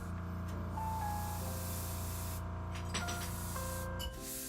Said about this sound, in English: This is a Copic airbrush.